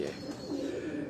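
A Kashni breed pigeon coos close by on a Lahore rooftop, one soft rolling call.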